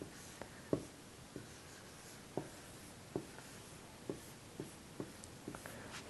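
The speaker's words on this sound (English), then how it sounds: "And here's how we write the word." A word written by hand on paper, heard as a series of faint, soft scratchy pen strokes and taps spaced irregularly, quiet and close with no talking.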